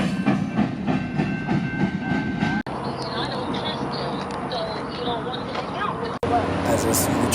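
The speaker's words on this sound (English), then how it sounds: "After this BNSF train clears the block" A BNSF freight train rolls past, a loud continuous rumble with rhythmic wheel clatter that shifts in tone as cars go by, broken by two abrupt cuts.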